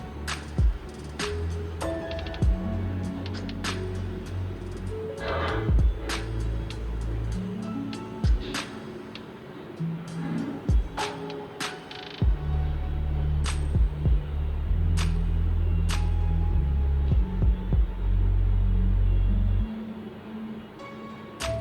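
A sewing machine stitches a seam along a marked line on fabric for an elastic sleeve, running in several bursts of steady whirring hum separated by pauses, handling clicks and rustles close by.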